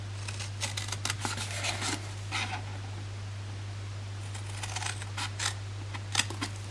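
Paper scissors snipping through a cardstock panel in a series of quick close cuts grouped into short bursts, over a steady low background hum.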